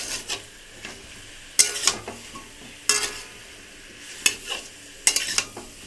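Soybean chunks and potato sauté with ginger paste in a pan, a low sizzle punctuated by several sharp, loud scrapes of a spoon stirring against the metal, spaced a second or so apart, close up and without talk.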